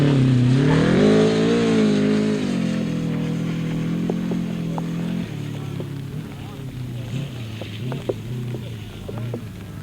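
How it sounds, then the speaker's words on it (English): Racing cars powering along a straight at Biddenden in worsening conditions: engines rise in pitch and rev hard near the start, then hold a steady drone that fades slightly, with faint voices beneath. "Lee Jones and Matt Winch powering up this straight."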